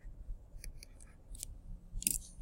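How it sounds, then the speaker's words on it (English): Scissors snip through paper in a run of short, crisp, close cuts, with a few quick snips and then a louder final cut over a low room hum. "chop it off, get my scissors, cut it off, and move it here"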